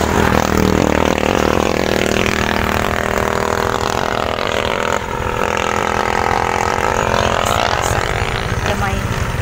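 Motorcycle engine heard while riding, a loud, continuous drone with shifting pitch as the rider eases off and picks up speed, the engine note rising and falling against steady road and wind noise.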